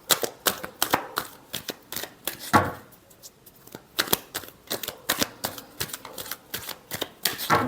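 A deck of tarot cards shuffled by hand, a steady run of quick, crisp riffling snaps and taps with a brief pause, close and fairly quiet.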